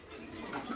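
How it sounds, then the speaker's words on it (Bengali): Domestic red-eyed pigeons cooing softly in a village loft, low murmuring coos that run steadily through a short stretch without talk. "জোড়া হবে 100 লাল চোখের কবুতর, অনেক বড় বড় বাচ্চা করে"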